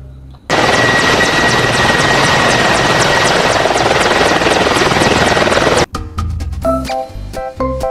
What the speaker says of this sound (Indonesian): Widi-widi, lihat ada helikopter.